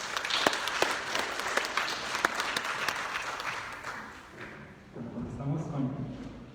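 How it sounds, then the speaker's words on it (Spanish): Audience applause greeting a speaker at a youth sexuality talk in Huajuapan, lively clapping with distinct sharp claps that dies down, after which a voice begins talking. "Para que pido lo recibamos con un aplauso,"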